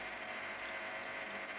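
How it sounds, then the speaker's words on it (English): A vinyl record turns in a Disco Antistat cleaner with a faint, quiet whir and an even mechanical rotation, alone and close, lasting under two seconds. "I'm going to put it through the second Disco Antistat"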